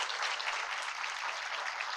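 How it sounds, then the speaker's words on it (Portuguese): Brief, fairly distant applause from an audience welcoming a Libras sign language interpreter at a public talk, a soft, even wash of clapping lasting about two seconds. "pede uma salva de palmas"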